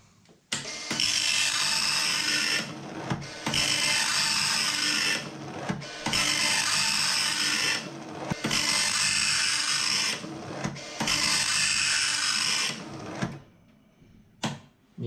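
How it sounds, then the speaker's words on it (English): An Atari 1029 dot matrix printer prints in five loud, buzzing mechanical bursts, each a few seconds long, separated by short pauses as the print head returns. "Alright, that's printing, but it's very faint."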